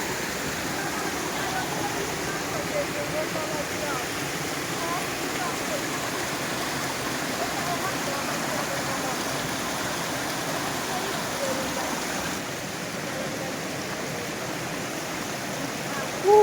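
Nozhatieh waterfall pours steadily, a loud, continuous rushing roar of falling water heard up close, unbroken for the whole stretch.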